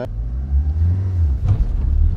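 A Renault Twingo pulling away on a slight hill, its small engine droning low and close with a brief rev surge as the wheels spin.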